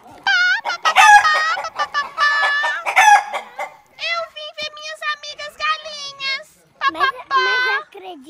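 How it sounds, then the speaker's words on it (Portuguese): Harmonic, rising chicken calls and clucks repeat rapidly for several seconds, close and loud, with a voice mixed in at moments. "Galo."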